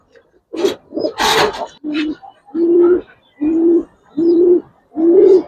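Giribaz pigeons cooing up close, a series of about seven or eight low, rounded coos in a steady rhythm, with a brief burst of rustling or wing noise near the start.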